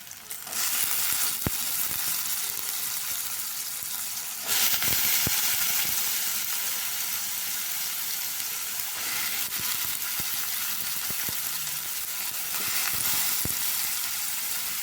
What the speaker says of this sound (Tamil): இதையும் அப்படியே எண்ணெயிலே நல்லா வதங்கிட்டோம்